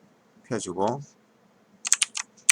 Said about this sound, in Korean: 컨트롤 키 누른 채로 클릭.